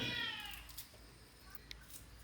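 A cat meows once, a short close mew at the start, followed by quiet kitchen room sound.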